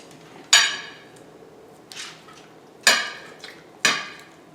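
A knife slicing through crusted vegetarian kishka on a hard board: four sharp, crisp cuts at irregular intervals, close and clear, with a quieter scrape between them.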